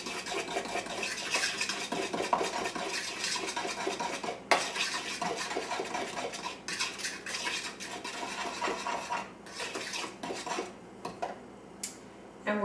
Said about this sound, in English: Then you stir it up with a fork.